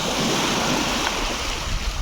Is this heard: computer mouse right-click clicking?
no